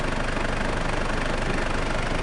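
A turbo diesel intercooler 2.8-litre engine in a 2005 Mitsubishi Montero idles close up, a dense steady rumble with a fast knocking pulse, constant and loud throughout.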